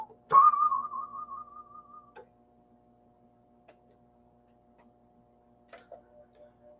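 A malfunctioning Ensoniq Mirage sampler plays a detuned piano sample, a wavering, pitch-drifting tone ringing out briefly, followed by quiet scattered clicks and a steady low hum.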